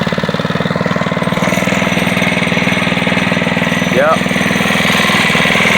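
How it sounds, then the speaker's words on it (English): An SSR dirt bike engine runs after a carburetor rebuild and a cold start, chugging loudly and steadily at idle with an even, rapid pulse right up close, while someone speaks briefly over it. "cold start, 2 pulls, baby. Running nice and clean."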